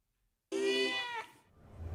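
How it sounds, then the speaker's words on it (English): A Behringer synthesizer voices a single cat-like meow, a bright wavering tone that bends and fades within about a second, alone and close. "let's check out the cat synth."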